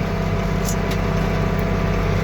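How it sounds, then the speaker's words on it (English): A tractor's PTO shaft runs at the rear during bedding chopping for cattle, a steady low mechanical drone with a constant hum, close and unbroken, with no talking. "That sound here is a PTO shaft back there just hanging around."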